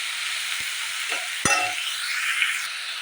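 Ridge gourd sizzles in hot oil with salt, a steady close frying hiss with a brief metallic clink of utensil and stirring partway through.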